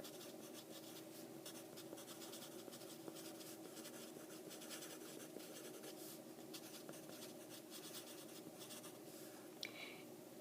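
Pencil or pen scratching steadily across paper while a math answer is written out, a continuous close, quiet scraping with no talk.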